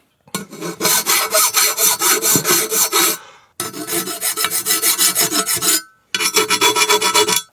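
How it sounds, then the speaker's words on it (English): A small round Nicholson file rasps over a cast model base to smooth its imperfections, with steady back-and-forth strokes in three close, loud bursts separated by short pauses. "a little round file, and just knock down some of these imperfections from where the base was cast"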